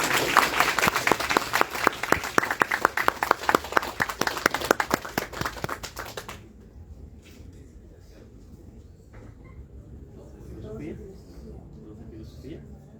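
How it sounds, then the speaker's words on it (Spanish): An audience at a Latin American academic event applauds in a burst of dense clapping for about six seconds, then falls away to quiet room noise with faint movement. "Aplauso, por favor."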